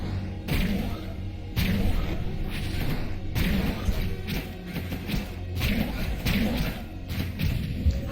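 Grenades explode in Hyper Light Drifter with a run of heavy, booming thuds spaced about a second apart, mixed in with game music and combat effects, loud and punchy.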